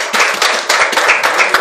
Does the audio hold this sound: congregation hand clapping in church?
yes